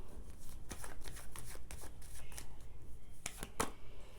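Tarot cards shuffled by hand, a run of close, crisp papery flicks and riffles in quick succession over a few seconds.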